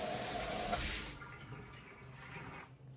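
Water from a multi-setting hotel resort shower runs with strong pressure as a loud hiss that cuts off after about a second, leaving quieter trickling and dripping.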